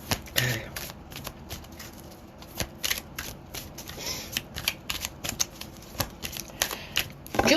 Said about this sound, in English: Jeez, Judy, could you stop messing with my cards? Let me shuffle them.